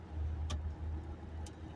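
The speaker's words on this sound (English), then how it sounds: "my windshield wipers are going" Windshield wipers going in a car during rain, with two brief swishing sweeps about a second apart over a steady low cabin engine hum.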